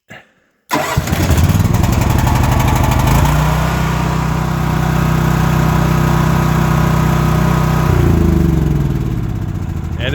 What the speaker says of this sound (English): Okay, we're dealing with the champion generator again.